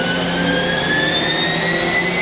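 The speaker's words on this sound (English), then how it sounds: "Okay, spindle is running." The spindle of a Mazak 4-axis machining center runs up toward 12,000 RPM, giving a loud, steady whine with tones that climb gradually in pitch.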